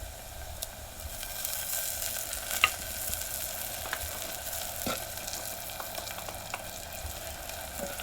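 Tomato and spices sizzle in hot oil for a tuvar dal tadka, a soft steady crackling hiss with occasional pops and light stirring sounds, fairly quiet and close with no talking.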